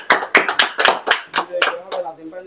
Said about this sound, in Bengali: এই রুবেল ভাইয়ের জন্য একটা হাততালি দাও সবাই